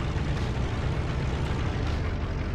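A fuel explosion in the top-down tank game Tankocracy gives a dense, loud, continuous rumbling blast that stays at full strength throughout, with no speech over it.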